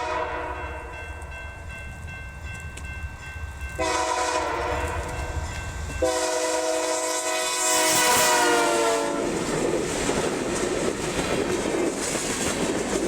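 A BNSF freight train passes behind three locomotives, two in warbonnet paint. Loud horn blasts sound in several sections, followed by the rising roar and rumble of the passing train.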